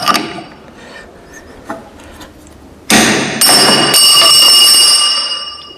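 A drill drift is hammered to drive a socket out of the spindle of a radial drilling machine: a few light taps, then two sharp metallic strikes that ring on and fade out, with no voices.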